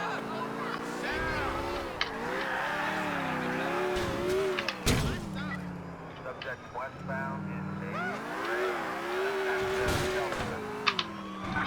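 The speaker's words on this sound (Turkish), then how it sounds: "Tekrar üstünde araba sürüyoruz." A car drives in the video game GTA IV, its engine tone rising and falling through gear changes, with sharp game impacts and pops scattered throughout and a voice talking over it.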